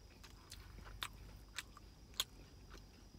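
A crunchy store-bought spring roll chewed close to the mic, with soft mouth sounds broken by three or four sharp, brief crunches spaced about half a second apart, no talking.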